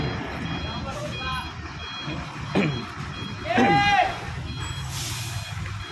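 A tow truck's reversing alarm beeps in steady repeated pulses while a truck is being towed on a street, with an air-brake hiss and engine rumble, and people talking nearby.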